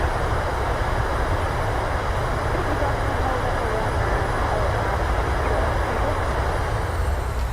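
An airliner rolls out on landing in Microsoft Flight Simulator as thrust reversers roar in a loud, continuous, broad rumble, dense and steady with no breaks.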